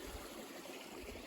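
A stream flowing beside the Appalachian Trail, a soft steady rush of water that is continuous and fairly faint, with no other sounds standing out.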